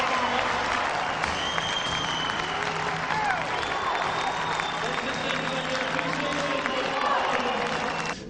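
An excited ice hockey crowd at the Centrum in Ayr applauding, dense sustained clapping with scattered cheers from many people, steady and fairly near throughout.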